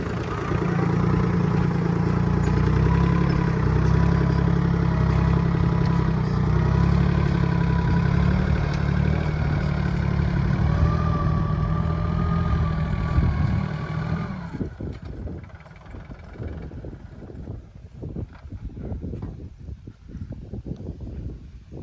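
A Swaraj Target 630 tractor engine idles with a steady low rumble for most of the stretch, then cuts off abruptly, leaving quieter scattered knocks and background noise.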